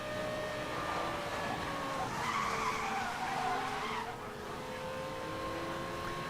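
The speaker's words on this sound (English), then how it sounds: "This car drifts really nice." Loud, continuous tire squeal from a car drifting in a racing video game, the screech sliding in pitch over engine drone before easing off, with no speech.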